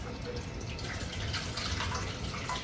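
Milk or whey poured slowly and gently by hand in a home kitchen during farmhouse cheddar making, a soft steady trickle and splash under a low continuous wash of water noise.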